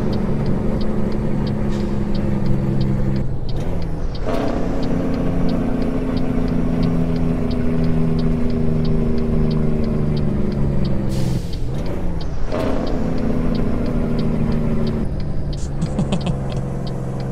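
A Kenworth 521 truck in American Truck Simulator rumbles loudly with a continuous engine drone and a rapid staccato engine-brake chatter, with pitch sweeps as the gears shift.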